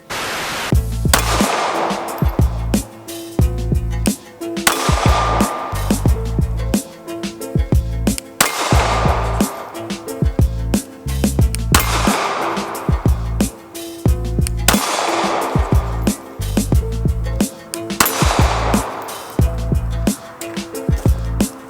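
A custom Glock 43 pistol fired outdoors in two strings of six rounds, loud sharp cracks spaced about a second or more apart, each with a brief echoing tail.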